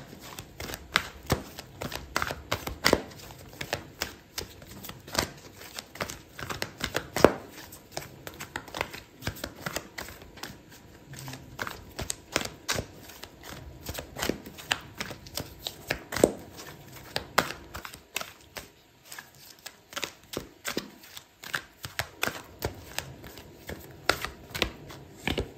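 A deck of tarot cards is shuffled over and over, producing quick, close riffling clicks and papery slaps in uneven bursts that continue throughout, with no voices.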